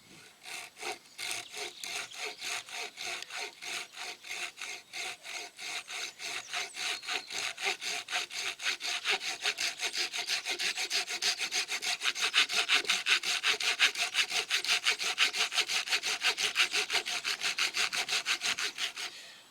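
A Fiskars SW73 retractable pruning saw cuts through a log over a woodpile, rasping in a fast, even rhythm of back-and-forth strokes that grows louder and steadier as the blade bites deeper.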